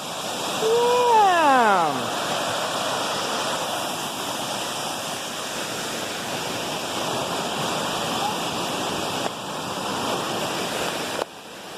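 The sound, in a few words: waterfall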